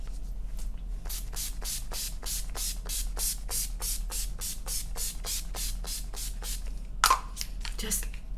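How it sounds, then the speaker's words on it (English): A long run of short, regular bursts of setting spray onto a face, about twenty quick hisses in steady rhythm, close and fairly soft, with a brief rustle near the end. "just a little bit of setting spray."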